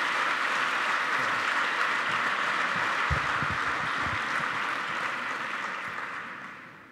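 A crowd at a University of Granada commemorative ceremony applauds a speaker with steady, dense clapping that holds for several seconds, then fades gradually toward the end.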